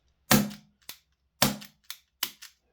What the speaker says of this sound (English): we've got a couple of shots off there before we ran out